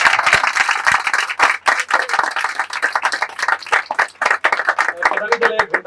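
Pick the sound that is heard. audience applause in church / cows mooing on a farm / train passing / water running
audience applause in church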